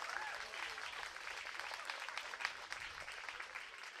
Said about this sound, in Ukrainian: дайте дівчатам ще оплесків